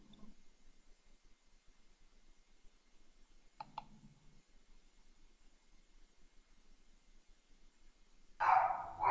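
A dog in a room gives a few short, sharp barks, one near the middle and a louder burst at the end, separated by near silence.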